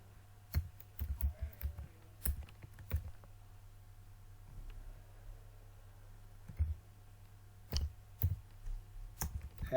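Sparse keystrokes on a computer keyboard while code is entered, heard as scattered single and clustered clicks over a steady low hum, fairly quiet and close.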